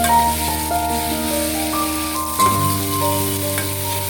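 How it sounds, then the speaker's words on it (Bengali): Tomatoes frying in a pan while a spoon stirs them, a steady close sizzle with a soft scrape or two and no talk. "টমেটোগুলোকে একটু নেড়ে চেড়ে নিচ্ছি, কারণ যদি একটু সস টাইপের হয়ে যায় ভালো করে মিশে যাবে আলু ভর্তার সাথে।"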